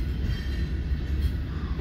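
A westbound freight train in Fremont, Nebraska, a continuous low rolling rumble of railcars on track, steady and fairly close, without talk.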